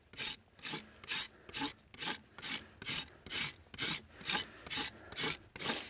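Knife shaving a fresh green limb on top of a mound while setting a beaver trap: a dozen even, raspy scraping strokes at a steady rhythm, close and moderately loud, with no talk.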